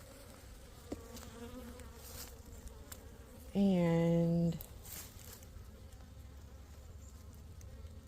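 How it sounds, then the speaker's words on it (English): Honeybees buzz steadily inside a full beehive under faint background noise, with one louder, sustained tonal drone rising briefly in the middle; a voice speaks once. "This beehive is definitely full of bees"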